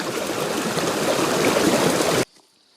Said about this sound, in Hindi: नदी की आवाज़ सुनिए, कितनी प्यारी लग रही है।